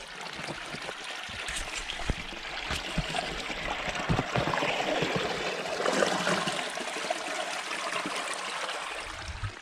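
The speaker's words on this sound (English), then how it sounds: "So we're just gonna fill up our water bottle" Spring water trickling and splashing into a water bottle outdoors in Alaska, a steady close bubbling flow that swells in the middle and stays continuous throughout.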